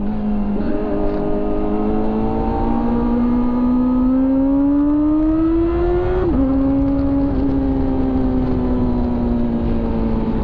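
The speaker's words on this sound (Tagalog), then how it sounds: "ang tunog ngayon ng tambucho. Napaka solid." A motorcycle exhaust roars up through first and second gear, a loud, close, continuous engine tone that climbs in pitch, drops briefly at a shift, then rises again, with no talk.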